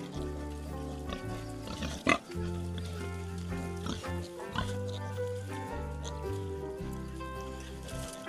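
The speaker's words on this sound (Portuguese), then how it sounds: "mostrando hoje a porcaiada solta. Soltei para eles pastar um pouco." Mixed-breed pigs let loose to graze on a farm grunt and oink intermittently under steady background music, with one louder snort standing out.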